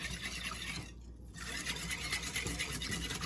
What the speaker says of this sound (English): And we are just going to whisk this